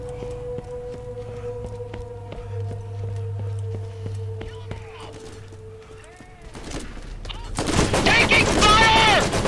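Video game gunfire: sharp shots crack in a quick irregular series over steady droning in-game tones, with a louder burst of noisy action near the end.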